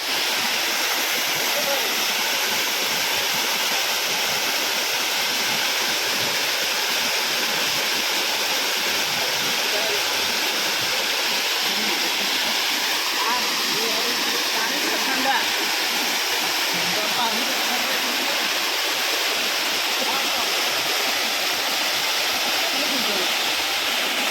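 Barakanya waterfall in Nayagarh rushing steadily, a loud continuous roar of falling water close by that holds unchanged throughout.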